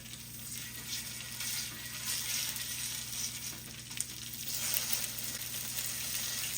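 Pierogies fry in butter or spread on a hot griddle, a steady soft sizzle and crackle that stays even and close throughout, with no voices.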